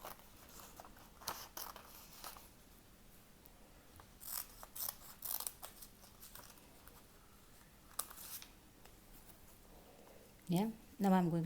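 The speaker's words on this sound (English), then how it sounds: "Now I'm going to cut this shape." Scissors cut a curvy paper flower shape, with sparse close snips and crisp paper rustles in small groups, faint overall, and a voice speaks briefly at the end.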